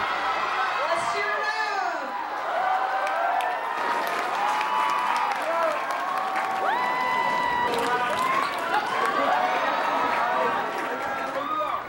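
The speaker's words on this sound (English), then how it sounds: "it's good to see everyone cheering for them" A dense indoor crowd cheers and claps for dancers on a dance floor, with steady applause, shouts and chatter filling the whole stretch at close range.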